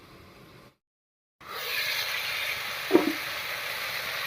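Pumpkin and pumpkin shoots cook with lentils in a pan after steaming under a lid. A brief silence gives way to a steady, fairly loud sizzle with a light utensil clink partway through.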